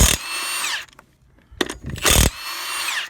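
A Milwaukee high torque impact wrench loosening a bolt: two loud, close bursts of whirring hammering separated by a pause with clinks and a short rattle, then a third burst.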